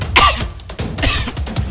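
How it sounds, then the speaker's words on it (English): A person coughs several times in quick succession, close and loud, with harsh bursts in a comedy sketch set during a national lockdown. "Keep coughing."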